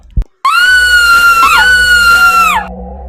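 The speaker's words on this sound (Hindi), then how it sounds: "तभी एक भयानक चीख ने उसकी नींद उड़ा दी।" A terrifying scream in a horror story rings out loud and close, a long sustained shriek that wavers and bends in pitch, cut off after a brief sharp knock at the start.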